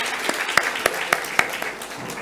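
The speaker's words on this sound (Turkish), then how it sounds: "güçlü bir alkış" An audience at a Ramadan talk gives a brief round of applause, a few sharp claps standing out over a softer wash of clapping.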